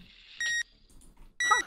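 Countdown timer in the horror game Dark Deception beeping twice, two sharp bright electronic tones roughly a second apart with faint room ambience between them.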